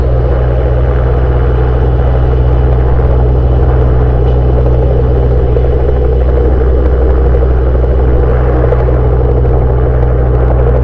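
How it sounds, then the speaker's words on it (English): Loud, constant low rumble of a video game helicopter's engine and rotors droning throughout as it tries to land, with no voices. "Unknown helicopter looks to be trying to land,"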